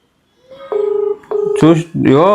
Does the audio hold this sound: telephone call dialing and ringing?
yes